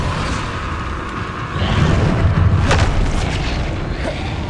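Confringo explosive spell in Hogwarts Legacy: a loud, sustained booming blast swelling about halfway through over a dense rumbling background, with a crackling burst near the middle and no speech.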